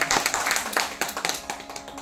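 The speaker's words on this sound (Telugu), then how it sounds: "రాజు గారు చప్పట్లు కొట్టారు, మీరు కొట్టండి" Audience hands clapping at a Telugu storytelling performance of the Kalidasa tale, a brisk uneven patter of claps from a small crowd, fairly close and continuous for a couple of seconds with no talk.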